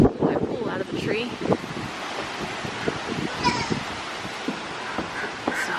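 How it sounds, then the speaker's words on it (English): Strong gusting wind of an approaching dust storm roars across the microphone outdoors in hot weather, with rustling and a few faint voices underneath. "It's a big dust storm coming in. I'll show you in the back. Pretty windy out there."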